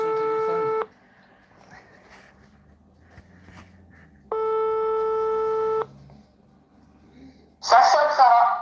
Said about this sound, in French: Ça sonne, Sarah.